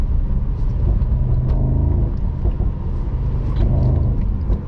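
A 2022 Mercedes SL 63 AMG V8 rumbles deep and steady while driving, a loud, close, continuous low engine drone with slight rises in pitch as it pulls along the road, and no talking over it.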